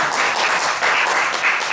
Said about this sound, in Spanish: un aplauso para Chema